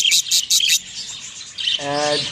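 Pet budgerigars in a breeding cage chirp in quick, loud bursts, then go quiet before a softer, buzzy warble rises near the end; no one talks over them.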